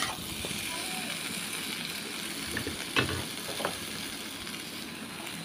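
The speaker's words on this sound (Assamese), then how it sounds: "অলপমান ভাজি থাকিব লাগিব।" Pork curry with potatoes and chopped tomatoes fries in a pan cooked without oil, giving a steady close sizzle with scraping stirs and a sharp clink partway through, while a voice talks faintly.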